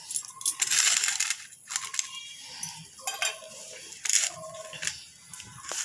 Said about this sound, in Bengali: এখন একবারে এটাকে ভালো করে আমি মেখে নেব।